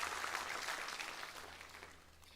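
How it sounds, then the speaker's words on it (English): Faint, distant audience applause at a festival sponsors night fills the moment with a soft, continuous patter of many hands, steady and then slowly thinning out. "let's give a big round of applause for that vision from our pioneers"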